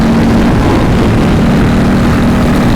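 A 2026 Harley-Davidson CVO Road Glide ST motorcycle under way, with a loud, continuous deep engine drone and rushing wind filling the whole stretch, steady and close with no breaks or voices.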